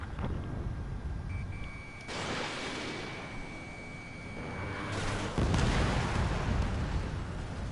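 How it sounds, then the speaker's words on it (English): A missile strikes a bomber during an aerial dogfight in the video game Ace Combat 7, heard as a deep rumbling explosion over steady jet engine roar, with a second heavier burst near the end. "Bomber hit by a missile"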